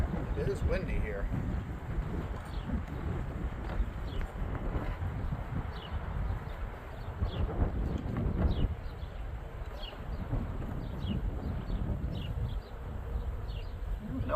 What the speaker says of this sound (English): It is windy here.